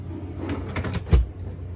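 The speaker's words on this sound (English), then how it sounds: "Let's move on to this drawer. Okay, there we go, the second drawer." A second storage drawer in a campervan slides open, ending in one short, fairly loud wooden knock over quiet background hum.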